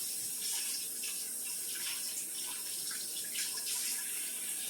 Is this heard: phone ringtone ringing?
no